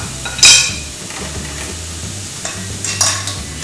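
A large tomato goes into a pan of spiced masala, followed by stirring, a soft sizzle of frying and light clinks of a utensil against the pan, close and fairly loud with no talking.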